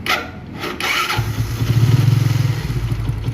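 Bajaj Vikrant motorcycle engine after a one-way clutch repair, with a rubbing clatter before the engine catches and settles into a close, loud, steady idle.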